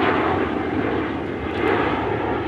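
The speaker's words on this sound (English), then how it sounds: "the spy plane, which became famous as the U-2 plane" A Lockheed U-2 spy plane roars past as a loud, dense, continuous broadband engine noise that stays steady and near throughout, with no voices.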